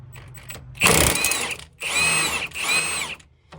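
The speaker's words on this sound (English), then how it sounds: "Take your power tool," A power tool whirs in three bursts, the motor spinning up and cutting off with short pauses between, while removing a lower sway bar link on a 2007–2011 Toyota Camry.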